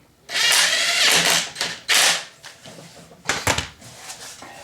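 A ratchet snugging up bolts on a Honda four-wheeler under restoration, giving close bursts of quick clicking with short pauses, a few separate runs of ratcheting and no talking.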